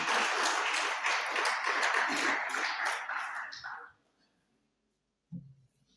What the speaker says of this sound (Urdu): ذرا بھرپور تالیاں دی